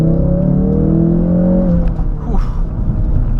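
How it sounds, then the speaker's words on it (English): A 2016 Ford Focus RS engine gives off a close, steady intake drone with rising harmonics as it pulls, then settles into a rougher, lower hum, with little exhaust note coming through. "Mostly you hear the induction noise, not a lot of exhaust note"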